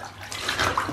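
A piglet paddles and splashes in a bathtub of water, with a continuous close watery sloshing and swishing that swells over the second, no voices heard.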